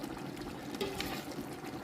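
Water is poured into a pan of simmering goat offal curry cooked with lentils, a soft, steady trickle and splash heard close up and fairly quiet, with no talking.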